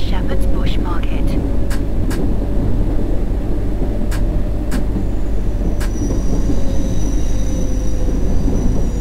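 A London Underground train in the World of Subways game runs steadily, with a constant low rumble, wheel and rail noise, and sharp clicks over track joints. A faint automated announcement-style voice sits under the train.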